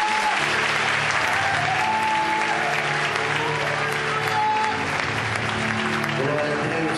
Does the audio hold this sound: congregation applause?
yes